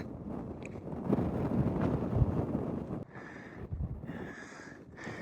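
Wind buffets the microphone in loud, rumbling gusts that rise and drop, with brief lulls between blasts, high on a trail in Hoover Wilderness, Humboldt-Toiyabe National Forest.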